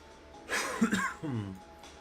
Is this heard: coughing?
yes